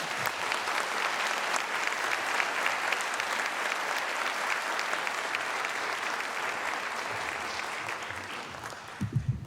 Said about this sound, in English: let's give them a big round of applause and get them started